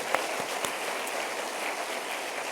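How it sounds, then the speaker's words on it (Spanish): Church congregation applauding during a sermon: a continuous, even patter of many hands clapping at moderate volume, with a few sharper individual claps near the start. "Siento que debemos darle un aplauso al triunfador de triunfadores, a Jesús"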